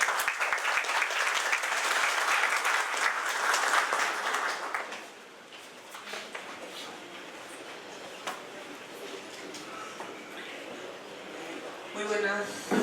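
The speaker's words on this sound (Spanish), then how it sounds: "La recibimos a nuestra ponente con un fuertísimo aplauso." A seminar audience gives a speaker a strong round of applause that lasts several seconds, then fades into quieter room sound as a person starts speaking.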